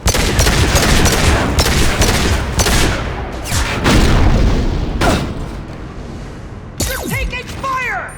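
Gunfire in the video game Mass Effect 2 during a squad firefight, with loud booming shots and bursts in rapid succession, dense throughout, mixed with game voices calling out and sharp effects near the end.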